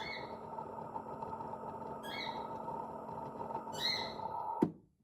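A few short bursts of pet birds chirping come and go over a steady indoor hum, ending with a soft clunk.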